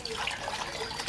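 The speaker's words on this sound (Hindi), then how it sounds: "अब इसमें मैं पानी शामिल करूंगी।" Water pours steadily into cooked gram flour (besan) for a pakora karhi, a close, continuous splashing trickle with no talk over it.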